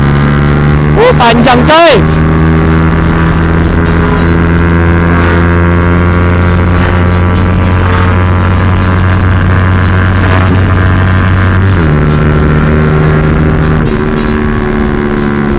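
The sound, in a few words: Yamaha Byson motorcycle with BRT CDI accelerating in third gear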